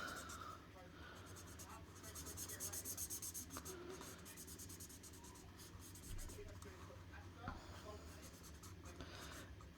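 Hand colouring of a stamped image on card: soft, close scratchy strokes of a pen or marker rub across the paper in a steady run, with quiet room noise behind.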